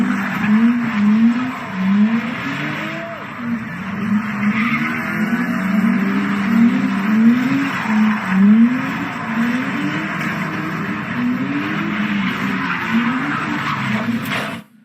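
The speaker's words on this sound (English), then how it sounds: "the people who looted that store then did burnouts in the street while the store was being looted" A car does burnouts on a public street in Los Angeles, its engine revving hard while tires squeal in repeated rising and falling wails, loud and sustained over a broad roar of crowd and street noise.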